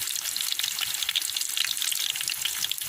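Egg pickle ingredients fry in a pan, a dense, steady, bright sizzle with crackling spatter throughout, close and even in loudness.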